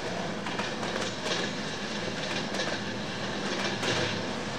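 Steady rumble and clickety-clack of a ЕКр1 electric train running in the Trainz game, a continuous close rail noise with faint wheel clatter and no voices.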